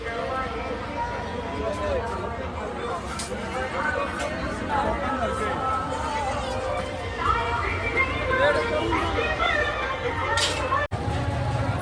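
Dense crowd chatter at the busy Murbad Mhasa village fair in Thane district, a continuous hubbub of many voices with children's calls, close and steady.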